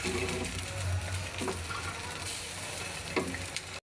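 Food frying in a pan, a steady crackling sizzle with occasional scrapes of stirring, close and fairly loud, no voices.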